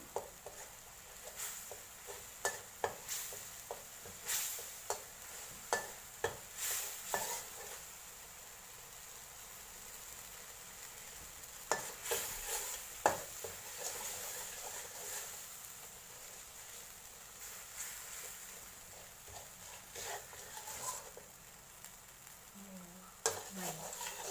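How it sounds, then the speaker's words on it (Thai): Red curry chili paste stir-fried in simmering coconut milk for a vegetarian mushroom curry, a spoon scraping and knocking the pan in irregular bursts over a soft steady sizzle, close and fairly quiet. "ผัดกะทิผัดไปเรื่อยๆ ผัดจนหอม"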